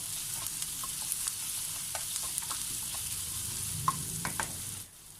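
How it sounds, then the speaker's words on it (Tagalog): Garlic, onion and tomato sautéing in a pan, a continuous crackling sizzle broken by several sharp spatula scrapes and taps as the mixture is stirred, fading out quickly at the end. "continue to saute this for a few seconds hanggang lumabas po ang aroma ng ating uh, bawang at saka sibuyas"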